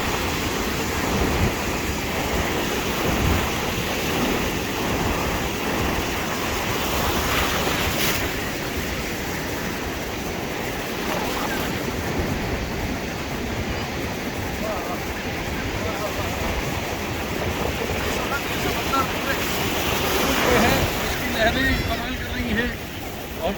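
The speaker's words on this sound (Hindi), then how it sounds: "थोड़ा सा लहरों का रेला और खेला देख लूँ" Sea waves roll and break on a shore in a continuous loud rush of surf mixed with wind buffeting the microphone, with no clear pauses.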